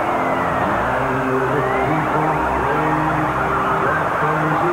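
Emergency vehicle sirens wail and warble together at a stadium parade for the final game at Arlington Stadium, several overlapping rising and falling tones sounding steadily over a crowd and engine backdrop.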